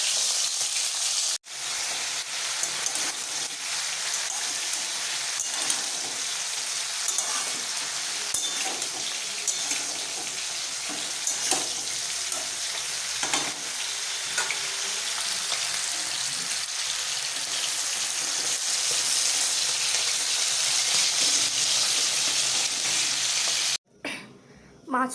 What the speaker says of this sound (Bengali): লঙ্কা দিলে এমনি ছেটকা আর কি।